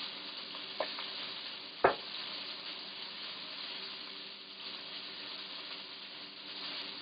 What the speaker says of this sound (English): Heart fried in red wine.